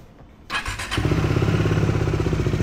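Motor scooter engine cranking to life nearby: a brief starter whirr and thump, then the motor catches within half a second and settles into a steady, loud, pulsing idle.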